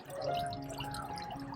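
Water drips and trickles softly from an air plant just lifted out of a dip in water, a brief, quiet patter heard alone up close.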